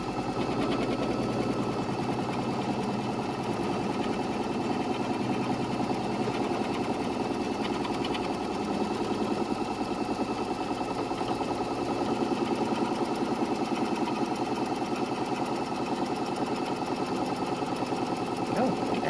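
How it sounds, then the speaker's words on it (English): A Kimberbell embroidery machine with a 5x7 hoop stitches around a Sunnies zipper pouch in a steady, fast mechanical whir with rapid needle chatter, continuous and close throughout. "So it is now going to stitch around."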